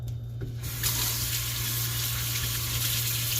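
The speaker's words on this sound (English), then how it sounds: "I'll rinse the stuff all up." A kitchen tap runs water over fresh basil and watercress being rinsed, starting after a brief quieter moment and then holding a loud, steady close splash.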